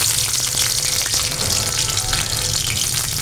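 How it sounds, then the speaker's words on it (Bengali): Onion and green chilli frying in hot oil for a pabda fish dish, a loud steady crackling sizzle with a low rumbling hum beneath, no speech. "এখন দিয়ে দেব পেঁয়াজ এবং কাঁচামরিচ।"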